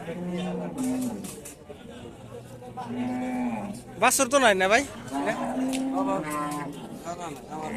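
Cows at the Kalampur cattle market in Dhamrai give several long, wavering moos, one louder call standing out midway, amid constant chatter of buyers and sellers close by.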